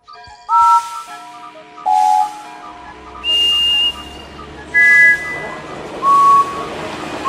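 A series of five loud, steady steam-engine whistle blasts, each about a second long with pauses between, for Henry the green engine in a Thomas & Friends game, over a soft background of music and rumble.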